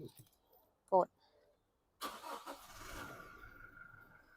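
A Toyota Fortuner 2.8 4WD diesel engine cranks and catches after a brief click, then settles into a steady idle heard close up from inside the cabin, with someone speaking briefly beforehand.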